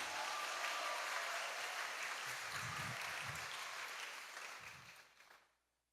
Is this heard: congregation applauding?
yes